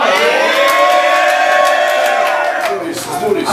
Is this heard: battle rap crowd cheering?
yes